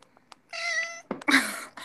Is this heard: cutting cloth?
no